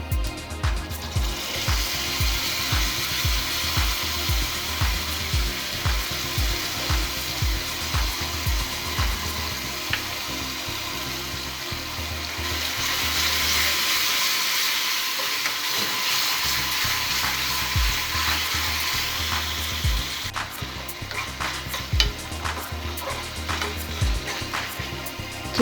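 Ginger pieces fry in a pan with a steady broadband sizzle, punctuated by regular rhythmic scraping or stirring strokes; midway the sizzle surges and briefly changes as tamarind juice is poured in, then stirring resumes.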